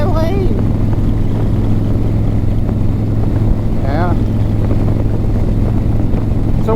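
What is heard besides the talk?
motorcycle riding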